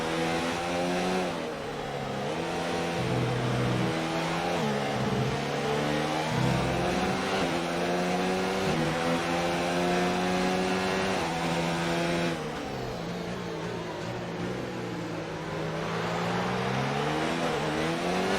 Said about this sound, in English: Ollie's is still right behind the Ferrari of PPR Cyclone.